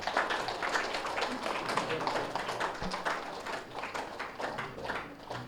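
An audience at a Sri Ramakrishna Paramahamsa Pyramid 4th anniversary event in Yanam claps steadily in a dense, moderately loud patter of many hands.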